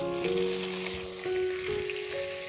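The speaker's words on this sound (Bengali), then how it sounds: "মাছগুলোকে আমি একটু কড়া কড়া করে ভেজে নেব।" Rohu fish pieces fry in oil, producing a continuous crackling sizzle that stays close and steady, with a few tonal hums running underneath and no talking.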